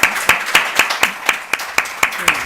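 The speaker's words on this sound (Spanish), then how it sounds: "y un aplauso" A lone pair of hands claps close and loud in a steady, even rhythm, about ten sharp claps in a couple of seconds, as a lecture ends.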